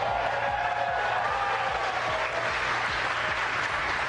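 Employees gathered in SpaceX Mission Control break into cheering and sustained applause after a Crew Dragon capsule splashdown, a dense continuous wash of clapping with crowd voices, loud and steady throughout.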